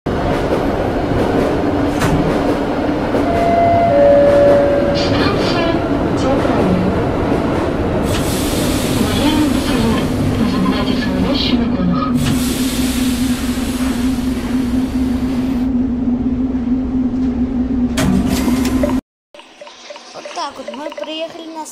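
A subway train in a metro simulator game runs toward a station with a steady low rumble and hum that fill the clip, then cut off near the end. A brief high tone sounds early on, and a voice speaks under the noise.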